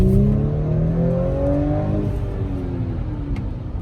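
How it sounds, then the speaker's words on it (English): An Audi B9 with an ECS Tuning X-pipe exhaust, set to dynamic mode, revs close and loud with rising and falling engine tones, no one talking. "I'm about to switch it into dynamic so that you can hear what it sounds like when it's tuned to be louder."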